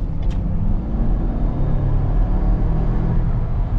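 A lifted Ford Bronco pulls hard under acceleration, its steady low engine rumble and drivetrain drone sounding close and continuous for a few seconds with no talking.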